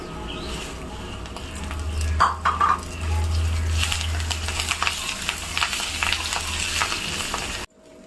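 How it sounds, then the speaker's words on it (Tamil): Mucumucukkai (Melothria) leaves sauté in a pan with a steady close sizzle and a few scraping stirs, a low hum underneath, ending abruptly in silence. "இந்த கீரையை கொஞ்சம் நல்லாவே வதக்குங்க"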